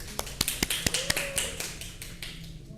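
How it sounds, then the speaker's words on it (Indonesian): A classroom of students clapping hands together during a lesson, a loose run of sharp separate claps at a steady rhythm that thins out toward the end, fairly close and moderately loud. "Tepuk tangan untuk semuanya."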